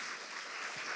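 A church congregation claps during an online worship service, a brief, even wash of applause lasting about a second.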